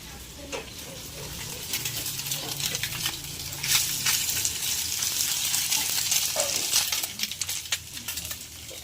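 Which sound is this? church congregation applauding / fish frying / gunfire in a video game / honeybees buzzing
fish frying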